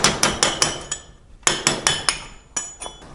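A hammer strikes a chisel to knock solder dross loose, in quick clusters of sharp metallic taps with short pauses between groups, close and clear with no talking.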